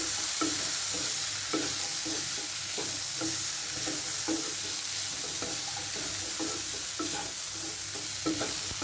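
Butter beans stir-fried with masala in a pan sizzle steadily while a spoon scrapes and stirs in regular strokes, close and moderately quiet, with no talking.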